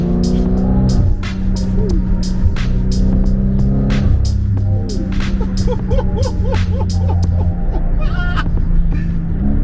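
A BMW F10 M5 being driven on a road trip: the engine roars and blips through downshifts, with rising and falling revs and sharp pops over a steady road rumble, loud and close.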